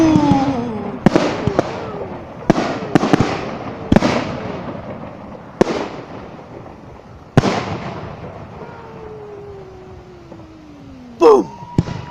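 New Year's Eve fireworks burst in a rapid irregular series of sharp booms and crackles, echoing outdoors, with a whistling rocket climbing near the end followed by a final pop.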